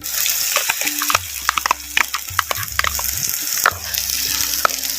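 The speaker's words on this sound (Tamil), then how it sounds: "நல்லா சுருள சுருள அப்படியே எண்ணெயில் வதக்கிக்கிறோம்" Tomato paste sizzles and spatters in hot oil, stirred with scraping clicks of a spoon against the pan, close and continuous.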